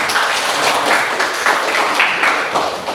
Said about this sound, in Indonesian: Bagus, beri aplaus